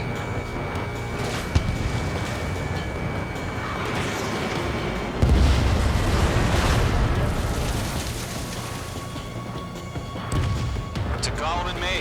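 In the Ace Combat flight game, a missile launches and explodes with loud crashing booms, one heavy blast partway through, over continuous jet engine roar.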